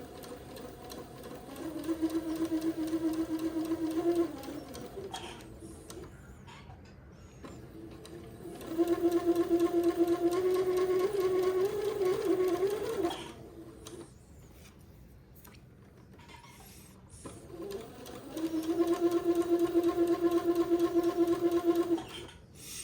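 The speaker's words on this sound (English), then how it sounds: "when we get finished sewing the elastic casing, we'll feed the elastic through" A sewing machine stitches an elastic casing in three long steady runs with pauses between, its motor giving a close, even mechanical hum that rises slightly in pitch partway through one run.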